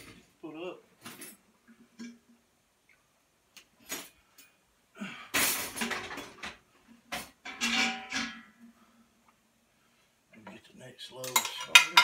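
Dishes and cutlery clink and clatter in scattered bursts as they are put away in a home kitchen, fairly quiet with pauses and some breathing between.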